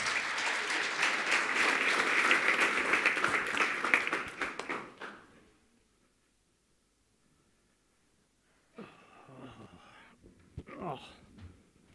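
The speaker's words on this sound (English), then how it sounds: "Welcome, Stephen, and let's give him a round of applause" An audience applauds speaker Stephen Gates at a design talk, with loud, sustained clapping that fades to silence after about five seconds, followed by a little faint talk.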